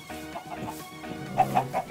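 Chickens in a Minecraft-style video game cluck in short, repeated bursts at moderate loudness over a soft, steady game background.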